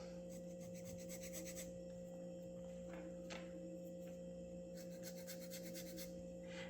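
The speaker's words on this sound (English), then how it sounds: "we need to give it a good sanding." Rhythmic rasping strokes of sanding a wooden model sailing pram, steady and close, in repeated bursts with short pauses and a constant hum underneath.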